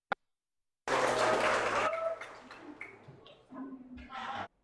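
Classroom audience clapping together in a teacher-training session, a broad burst of applause lasting about a second before fading into scattered claps and a few voices, with a short second round near the end.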